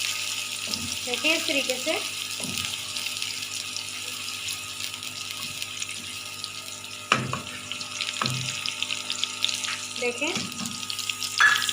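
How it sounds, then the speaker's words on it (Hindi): Onions fry in a pan for aubergine masala, a steady hiss of hot oil with a few stirring clunks and scrapes, while someone talks briefly over the sizzle. "प्याज हमारे फ्राई हो रहे हैं।"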